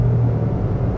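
Inside a 2017 Mitsubishi Mirage G4, the engine drones at raised revs in a brief, steady, close rumble, mixed with road noise from its 15-inch alloy wheels.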